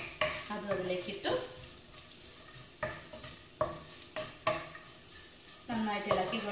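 Crushed dried red chillies frying in a pan for a Kerala vendakka mezhukkupuratti (okra stir-fry), stirred in repeated scraping strokes over a steady sizzle, close and fairly loud, with no talking.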